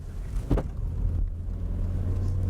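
A 1998 Vauxhall Astra swerves through an elk-test cone course, its engine droning steadily close by with a brief rushing swell of tyre and wind noise near the start.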